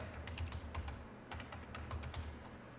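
Fingers type on a computer keyboard in quick irregular bursts of soft close clicks with a short pause in the middle, no voices.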